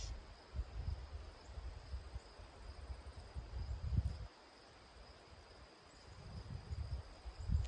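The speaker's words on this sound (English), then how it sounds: "Crickets." Crickets chirp faintly in a quiet outdoor setting, a thin high steady trill over soft low rustling and rumble, with no talking.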